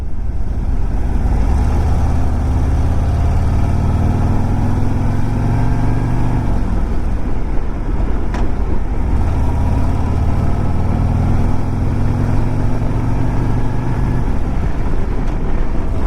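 A 2025 Harley-Davidson Road Glide engine runs loud and steady under wind rush while the rider downshifts into second, the pitch dropping and climbing again in repeated gear-change swells.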